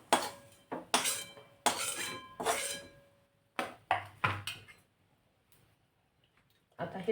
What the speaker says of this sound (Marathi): आता ही डाळ आपण भाजून घेणार आहोत.